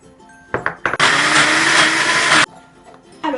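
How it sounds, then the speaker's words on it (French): Kitchen blender whirring loudly for about a second and a half, blending spices and fresh flat-leaf parsley for a butternut squash dish, with short clunks and pulses before and after. "on le place dans le blender puisque ça va épicer notre courge. Et on va rajouter quelques branches de persil plat frais et on mixe le tout"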